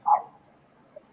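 A dog gives a single short bark close by, followed by near silence with a faint trailing sound at the end.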